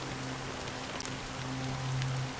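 Steady rain falling in the Honkai Star Rail game, a continuous hiss of drops with a low sustained musical hum beneath.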